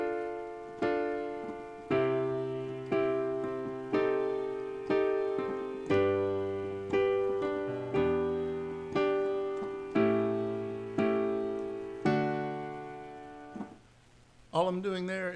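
Piano chords struck one per beat in a slow, steady ballad progression with an 8th-note feel, each ringing and decaying before the next, ending with a brief soft noise.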